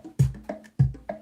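A short, random percussion pattern made by pressing random buttons on a sequencer: a few punchy low drum thumps alternate with lighter hits in a lopsided rhythm, loud and alone.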